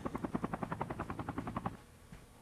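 A helicopter in the Call of Duty Mobile battle royale thumps with a fast, steady rotor chop for about two seconds, fairly close and loud, then abruptly drops away to a faint background rumble.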